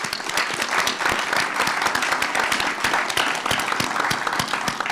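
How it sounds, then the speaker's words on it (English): Sustained applause from an audience at a fire department awards ceremony, dense and steady clapping that fills the whole stretch at an even, fairly loud level. "let's give them a round of applause"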